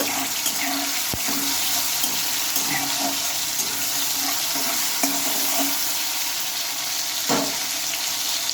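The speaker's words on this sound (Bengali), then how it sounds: "এখানে নিয়েছি আমি টমেটোটা টমেটোটা একটু নাড়াচাড়া করে নেব" Tomato being stirred as it fries in a pan for a vegetarian cabbage dish, with a steady close-up sizzle running throughout and occasional scraping knocks from the spatula, and no talking.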